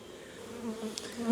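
Honey bees hum steadily around a hive entrance in fall, a low continuous drone with a few individual bees buzzing closer now and then.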